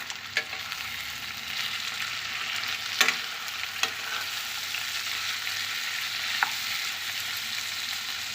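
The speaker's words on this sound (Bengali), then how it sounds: "এখন এর মধ্যে দিচ্ছি এই যে চিংড়ি মাছগুলো একদম কেটে ধুয়ে ভালো করে পরিষ্কার করে নিয়েছি একই সঙ্গে দিয়ে দেবো একটু হলুদ একটু নেড়ে দেবো" Cleaned, cut shrimp with turmeric frying in a hot pan while being stirred: a loud, continuous sizzle close up, broken by a few sharp clinks of the utensil against the pan.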